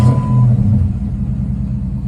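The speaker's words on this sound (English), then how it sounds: "Now that you got the car running" A 6.1 Hemi V8 car engine idles with a loud, steady low rumble, close up and continuous, with no voices.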